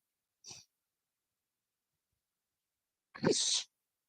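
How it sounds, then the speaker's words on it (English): One close sneeze bursts out sharply after a faint intake of breath, standing alone against near silence. "You got to sneeze."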